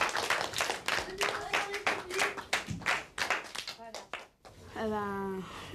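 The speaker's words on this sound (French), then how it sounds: "On peut l'applaudir, hein?" A classroom of students applauds their newly elected class delegate Nicolas with scattered hand claps that thin out. Voices speak between and after the claps.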